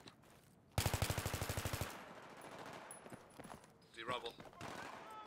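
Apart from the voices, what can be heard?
gunfire from video game Battlefield 3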